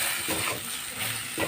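Two eggs fry in a pan with potatoes while being stirred, a dense close sizzle swelling and easing with each scraping pass of the spoon, no talking.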